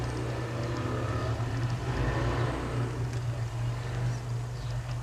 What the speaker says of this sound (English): Yeah, motorcycles in the background up there.